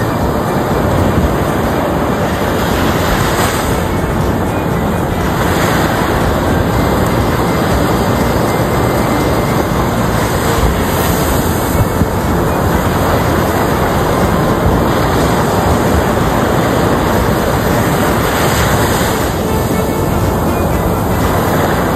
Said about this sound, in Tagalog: Pakinggan naman natin ang magandang himig ng dagat.